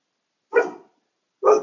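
An old dog barks twice at another dog outside, each bark short and loud, with a clear gap of silence between them.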